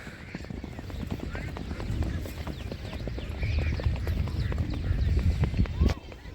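Racehorses gallop in a young-horse race in Bhuj, Kutch, their hooves clip-clopping in a rapid, steady rhythm that grows louder toward the end, with crowd noise behind.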